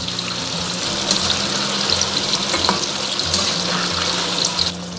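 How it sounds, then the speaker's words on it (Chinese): Eggplant deep-fries in hot oil over high heat with a dense, steady sizzle that stays loud and even throughout and tails off slightly at the very end. "就全程大火给它炸"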